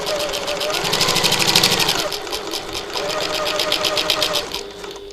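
A sewing machine runs fast and steadily, stitching fine fabric around curves for a bag, with a close, continuous mechanical whir that eases slightly midway.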